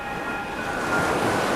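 Ocean waves wash in a steady, rushing roar with no break, loud and close, with no voices over them.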